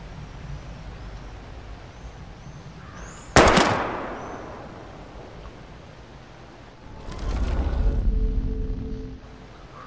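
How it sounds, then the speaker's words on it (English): Gunfire in the Life is Strange video game as bottles are shot: one sharp, loud bang, then a louder rumbling burst with a fading tail a few seconds later. "We're gonna shoot all these bottles without wasting a single bullet."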